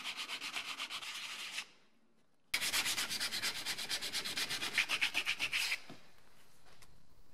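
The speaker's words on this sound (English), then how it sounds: "I'm going to remove the wear and tear from the handle using 80 grit sandpaper and work my way up." Sandpaper of 80 grit rubbed by hand over the worn wooden handle of a 110-year-old Disston hand saw, a steady rhythmic back-and-forth scratching close up, with a short pause before the strokes resume more strongly and then trail off.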